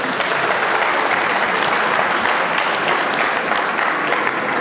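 Arena crowd applauding at a professional boxing match, a loud, even and continuous roar of clapping with no talk over it.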